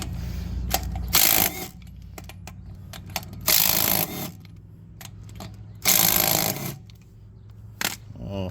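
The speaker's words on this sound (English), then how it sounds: "we're gonna grab our impact and bust our lug nuts loose." An impact wrench loosens lug nuts on an '06 Silverado in several loud, short rattling bursts separated by quieter pauses, with some speech between them.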